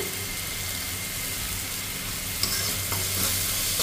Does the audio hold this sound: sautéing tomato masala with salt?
yes